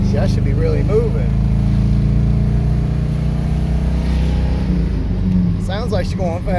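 The cammed 5.7 V8 of a 1992 Chevy Silverado pickup with a 5-speed roars steadily from inside the moving truck, pulling hard with a deep rumble, while someone speaks over it at times.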